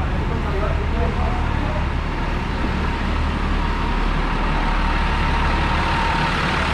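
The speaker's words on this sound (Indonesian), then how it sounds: "Ada yang kira knalpotnya cuma kanan doang. Ternyata kirinya juga aktif." An SJ Phantom bus runs with exhaust pipes on both the left and right sides active. The exhaust gives a loud, steady, low roaring drone that carries through the whole stretch without break.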